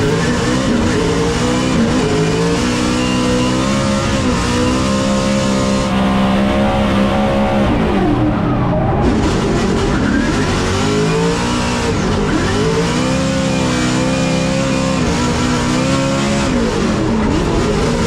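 James Deane's new Ford Mustang RTR drift car launches off the line at a drift competition qualifier, its engine screaming and bouncing off the limiter through repeated revving surges, loud and continuous with tire squeal.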